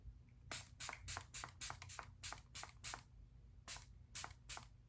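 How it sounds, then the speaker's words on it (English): Milani setting spray is pumped onto a face in a quick series of about a dozen short hissing mists, some in rapid pairs, soft and close, with a faint low hum beneath and no talk. "I'm using Milani setting spray to set my makeup"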